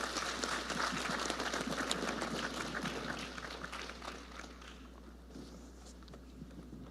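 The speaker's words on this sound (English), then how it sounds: "Round of applause." Audience applause follows a panel discussion at a biodiversity conference, with many hands clapping steadily, loud and dense at first, then thinning and fading over the last couple of seconds.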